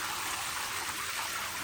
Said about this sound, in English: Let that water drain out.